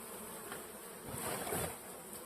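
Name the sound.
honeybees buzzing at the hive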